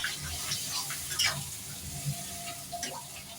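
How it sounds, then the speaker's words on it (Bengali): Water is poured into a cooking pot of tel potol doi, a sizzling home-kitchen dish, making a steady close splashing hiss mixed with faint sizzling and clatter, with no voices. "আমি এখন পরিমাণের মতন জল দেবো।"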